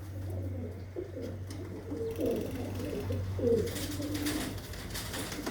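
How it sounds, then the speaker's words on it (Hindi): Pigeons cooing in a breeder's loft, their soft rolling coos repeating close by over a steady low electrical hum. "ये देखें जी कबूतर"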